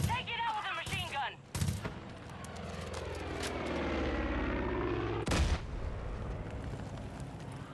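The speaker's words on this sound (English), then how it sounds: "Take it out with a machine gun!" Video game battle against an enemy plane giving air support over a town: rapid machine gun bursts and sharp gunshots, loud and close, over a droning aircraft engine that swells and fades, with shouted voices at times.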